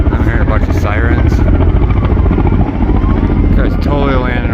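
A helicopter flies in and lands close by near a pedestrian bridge at Taehwagang National Garden, its rotor a very loud, continuous pulsing drone under a person's speech.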